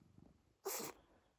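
One sharp sneeze from a cat close by indoors, a single short burst against a quiet room.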